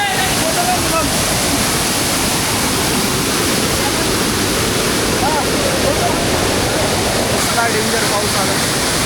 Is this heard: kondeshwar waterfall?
yes